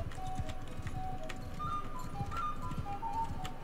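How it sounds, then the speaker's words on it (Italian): A horse's hooves in Mount & Blade II: Bannerlord make a steady, rhythmic clip-clop under faint ambient game sound as the horse keeps moving forward. "il cavallo continua ad andare avanti"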